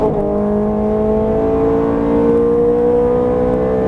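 Ferrari 430 Scuderia V8 on a track, loud and close from inside the car, holding a steady high engine drone with several parallel harmonic bands that rise gently as the revs climb through an upshift.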